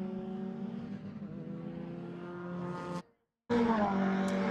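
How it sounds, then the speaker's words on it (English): Race cars corner on a circuit through a left-hander, engines droning steadily at a distance with shifting pitch, a brief break, then a louder, nearer car, with no talk. "Ryan Barron quite wide, takes a slightly wider approach through Coram, trying to set himself up for a nice run on the exit through the left-hander at Murray's."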